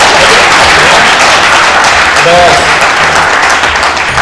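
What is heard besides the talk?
audience applause at a religious discourse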